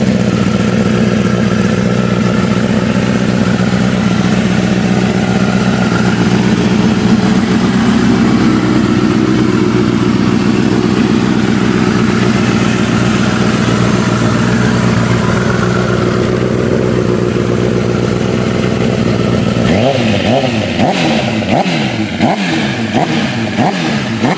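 A Honda CBR motorcycle engine idles steadily close up while warming up after starting, a constant loud rumble with a brief change in tone near the end.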